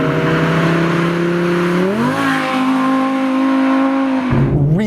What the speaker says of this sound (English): Really fast shifts in this car.